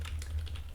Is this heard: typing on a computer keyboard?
yes